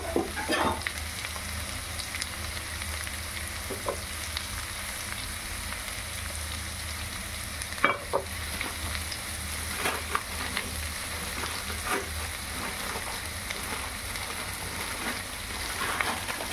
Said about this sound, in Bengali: ভেজে নেব, যেটা নাকি আমরা ওই সবজির মধ্যে দেব। অল্প তেল দিলাম